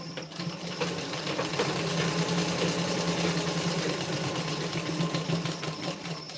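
A sewing machine runs steadily close by as it stitches tucks into a blouse, making a loud, even mechanical whir and rapid needle chatter that goes on without a break and with no talk.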